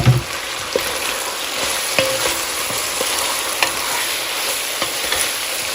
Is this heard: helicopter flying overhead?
no